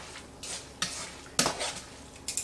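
Peas stirred into spaghetti carbonara in a pot, a few distinct metal-on-pot scrapes and clinks of a spoon over a faint background hiss.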